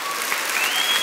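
A church congregation applauds for its single members, a dense, even wash of clapping that stays steady throughout with no voices standing out.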